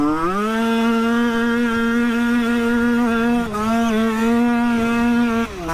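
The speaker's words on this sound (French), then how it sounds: "Elle hurle cette moto." A 50cc Mobylette motocross moped screams at high, sustained revs with a buzzy, harmonic-rich whine. The pitch dips and recovers briefly twice.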